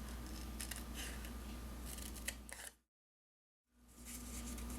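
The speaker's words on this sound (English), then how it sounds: "we're going to take one of the scraps from the kit, and we're just going to cut it" Scissors snip a scrap of gold paper from a Paper Pumpkin craft kit, a steady close crisp cutting rasp running for a few seconds, then a brief silence before the rustling resumes.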